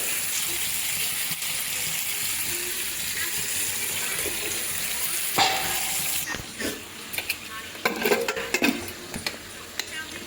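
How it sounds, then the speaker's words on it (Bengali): A steady hiss of water pouring into lentils runs for several seconds, then gives way to stirring, clinks and scraping from a pot. "এখন পানি দিয়ে দেবো ডালে"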